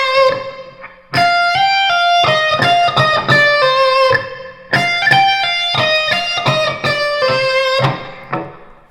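A distorted electric guitar plays a solo lick, a quick run of bright, singing notes with hammer-ons and pull-offs, phrased in two bursts with a brief gap between them.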